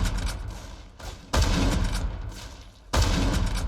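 Gunfire in the shooter game Neighborhood War, with an enemy firing on the player near a SPAS-12 shotgun: a dense, continuous crackle of shots with two abrupt, louder blasts landing about a second and a half apart, close and heavy.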